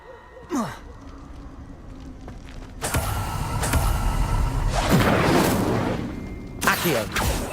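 In Hogwarts Legacy, an Incendio fire spell is cast amid gameplay. A whooshing, roaring burst of flame swells and holds for a few seconds, with sharp magical zaps before and after.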